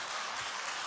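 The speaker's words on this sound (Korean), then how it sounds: "박수." A church congregation applauds during a Korean evening worship service, a steady wash of clapping that fills the whole brief moment.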